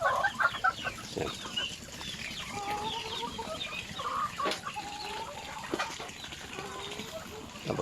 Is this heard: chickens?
yes